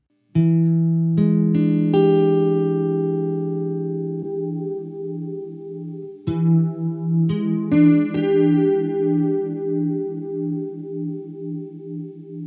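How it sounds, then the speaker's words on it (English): An electric guitar through a Maxon CS5 chorus pedal plays a few plucked chords and single notes with a shimmering, wavering chorus effect, letting them ring out and decay. "Here is a Maxon CS5, a pretty standard sounding chorus pedal."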